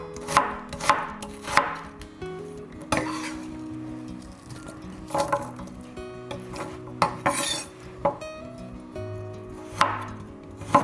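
Rapid rhythmic chopping of a knife shredding purple onion on a cutting board, crisp close thuds in quick bursts separated by short pauses.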